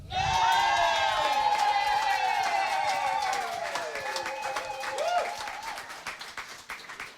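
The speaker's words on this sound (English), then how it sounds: "I don't think the cheer was loud enough. Please give it up for George Story." A theatre audience at a musical showcase finale cheers and applauds loudly for a performer. Sustained clapping and cheering fill the room, with whoops above them, then fade gradually toward the end.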